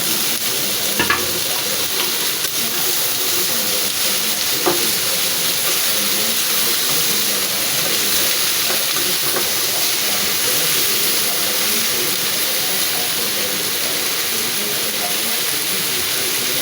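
Bitter gourd, potatoes and small shrimp fry in a pan with a steady, close, even sizzle that continues without a break, with occasional faint stirring clatter.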